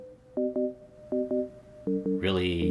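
A synthesizer sine stab pluck taps out short, clean, evenly spaced notes in a sparse rhythm, ending with a brighter burst of layered sound at the close.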